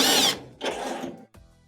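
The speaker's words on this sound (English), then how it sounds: "What we'll do first is remove these 2 Phillips screws that are anchored through the blower" Power drill backing out Phillips screws from the blower wheel of a GE dryer during repair: a loud high whir, then a second shorter burst of motor whine, then a brief final spin, close up with no talk.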